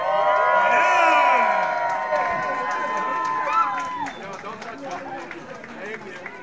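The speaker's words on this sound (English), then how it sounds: "Round of applause for the first sale!" A crowd cheers and whoops after the first legal cannabis sale at a New York dispensary, loud excited shouts and voices overlapping, with no clear clapping heard.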